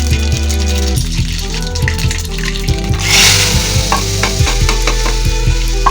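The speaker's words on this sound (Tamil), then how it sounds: "அதுக்கு ஜீரகம், வெந்தயம், காஞ்ச மிளகா போட்டு தாக்கணும்" Whole spices of cumin, fenugreek and dried red chili sizzle and crackle in hot oil for sambar, a steady loud frying hiss with sharp pops and occasional stirring clinks, no voices.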